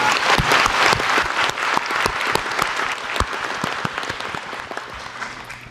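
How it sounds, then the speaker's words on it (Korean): Enthusiastic clapping from an audience at a public event with the president in Daejeon, crisp and close at first, then gradually thinning and softening toward the end. "박수 한번 부탁드립니다"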